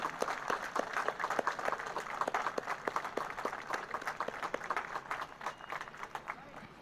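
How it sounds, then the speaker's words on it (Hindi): Crowd applause at an RPF Raising Day parade in Valsad, a steady outdoor round of clapping from many people, moderately distant, with faint voices mixed in. "हमारे सभी जवानों का एक बार बहुत जोरदार तालियों के साथ अभिनंदन करें"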